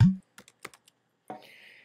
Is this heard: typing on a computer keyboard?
yes